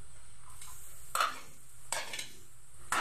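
Onion and garlic hit hot oil in a pan while cooking chicken tinola, giving three short bursts of sizzling and stirring over a steady low frying hiss.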